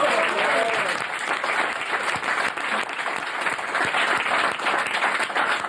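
A studio audience applauds during a French TV show, sustained dense clapping at moderate distance that continues the whole time under a faint voice.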